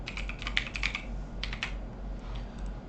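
Clicky computer keyboard typing while connection details for a MySQL database are entered, in bursts of quick keystrokes with short pauses, close and moderately loud over a low steady hum.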